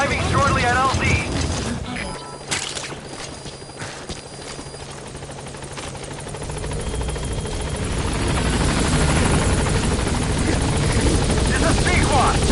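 An extraction helicopter arriving in Metal Gear Solid V, its loud, continuous rotor thump and engine whine building and filling the scene while a radio voice talks over it.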